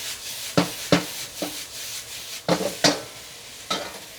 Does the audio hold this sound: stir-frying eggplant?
yes